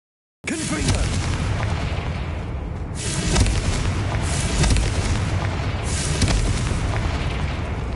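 Confringo fire spell in Hogwarts Legacy erupts after a sudden start into a loud, booming blast that rolls on, with several further swelling bursts over a sustained roar.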